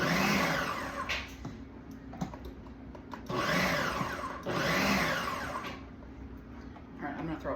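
An electric food chopper whirs in repeated bursts, three long high-pitched motor runs separated by short pauses, loud and close, while the blades work through food.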